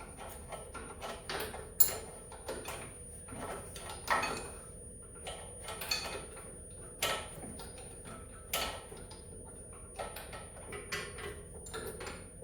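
A 1/2-inch standard wrench turns loose bolts during a Jaguar teardown, making faint, scattered metallic ticks and clacks in a quarter-turn rhythm with quiet gaps between them.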